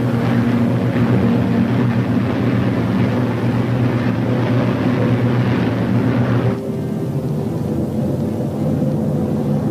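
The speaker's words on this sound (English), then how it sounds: "The Mustangs climb in formation to take positions above the boxes of B-29s." P-51 Mustang fighter planes climbing in formation produce a deep, steady droning roar of piston engines that drops abruptly in level partway through and then continues more softly.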